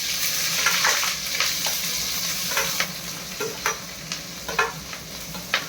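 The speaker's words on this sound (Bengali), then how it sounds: "এখন পেঁয়াজ আর কাঁচা ঝাল দিচ্ছি।" Onion and green chili frying in hot oil with cumin, bay leaf and dried red chili, a steady close sizzle broken by repeated scraping stirs, with no talking.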